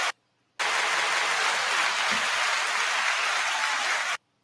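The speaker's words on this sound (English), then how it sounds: "Let me applaud myself" A man's applause for himself: a dense, steady wash of clapping lasting about three and a half seconds, starting and stopping abruptly, with silence before and after.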